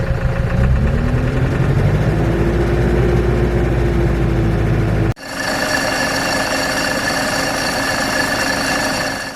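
Loud, steady mechanical roar of an Olmi pneumatic leaf stripper powered by a Same Frutteto 100 tractor in a vineyard, with an engine drone and blower whine that shift abruptly partway through, heard up close without talk.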